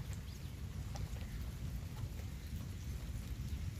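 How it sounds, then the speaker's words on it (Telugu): Light drizzle pattering steadily outdoors ahead of a cyclone, a soft continuous wash of rain with a low rumbling undertone and no voices. "చినుకులు అయితే పడుతున్నాయి"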